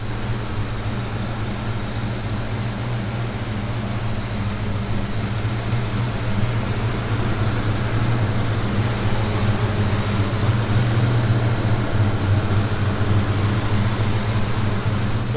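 A 2004 Mercury Grand Marquis idling steadily while warming up, a low, even engine rumble heard close up and alone, unchanging for the whole stretch.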